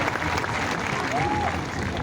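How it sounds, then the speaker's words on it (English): A graduation audience claps steadily as a broad, even wash of applause for about two seconds, with crowd murmur mixed in. "You guys can clap."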